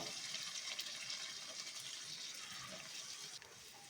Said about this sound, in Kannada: ಈಗ ನಾನು ಜಾರ್ ತೊಳೆದಿರೋ ನೀರು ಹಾಕ್ಕೊಳ್ತಾ ಇದ್ದೀನಿ